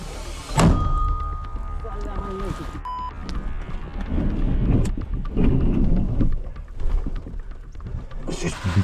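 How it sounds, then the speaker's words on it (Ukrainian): Sharp booming gunshots in combat near Toretsk, Ukraine: one loud close bang, then more heavy thuds and rumbles, with soldiers talking and calling out shots amid the noise. "Постріл! Постріл!"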